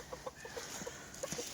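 Hens clucking beside a backyard henhouse that is being moved, a series of short, soft clucks in an uneven rhythm, fairly close but quiet, with no talk.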